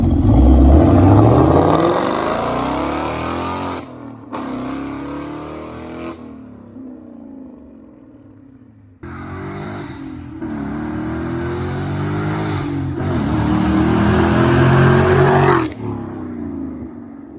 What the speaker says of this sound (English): get a good clip of drive-bys and what it really sounds like from the outside